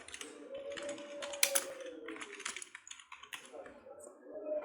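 Someone types a name on a computer keyboard: clusters of quick, crisp key clicks come in uneven bursts with short pauses, and a voice talks faintly underneath.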